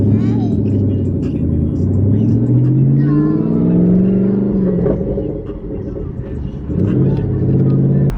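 A twin-turbo Ford Boss 302 Mustang pulls away and accelerates toward a highway, heard from inside the car. Its rising engine tone climbs through gear changes, loud and close, while people talk over it.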